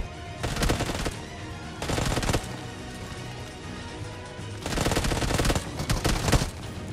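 Automatic gunfire in the battle royale video game BGMI, several bursts of rapid shots separated by quieter stretches, loud and sharp throughout.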